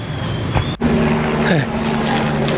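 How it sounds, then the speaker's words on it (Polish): A helicopter passes overhead outdoors, a steady low rotor and engine drone running continuously at moderate loudness, with a brief dip before it swells again and a faint pitch shift as it moves. "Tam śmigłowiec, tudzież helikopter"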